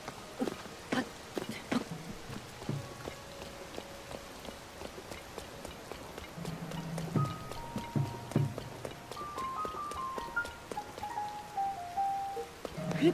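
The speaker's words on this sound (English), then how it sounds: "now it's raining" Rain falls in a video game, a steady wash of patter that runs the whole way under game sounds, with a few sharp knocks and clops on top and a rising run of short tonal notes near the end.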